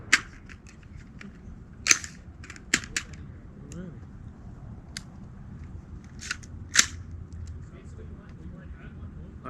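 AR-15 rifle shots fired outdoors at night, a handful of sharp, widely spaced cracks spread across the clip, with people talking between them.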